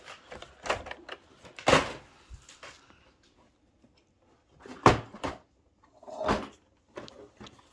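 Cardboard advent calendar doors are picked and pried open with a few sharp papery clicks and tears, close and intermittent, separated by quiet pauses.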